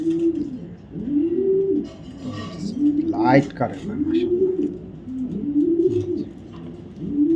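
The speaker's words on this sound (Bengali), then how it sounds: "এটা এআরপিসিটি ক্লাবের রেস করা কবুতর" Racing pigeons from an ARPCD club coo in repeated, rhythmic, rolling low calls, close and clear, while someone speaks briefly over them.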